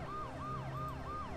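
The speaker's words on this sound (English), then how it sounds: "Stupid siren!" A wailing emergency siren in the Dead Synchronicity video game, rising and falling in steady repeated sweeps about every third of a second, loud and continuous over a low rumbling drone.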